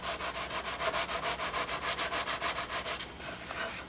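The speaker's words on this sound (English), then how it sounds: "As I'm sanding, I'm twisting the dowel" Rapid back-and-forth rasping of sandpaper against a twisting wooden dowel, about four strokes a second, close and fairly quiet, then easing off near the end.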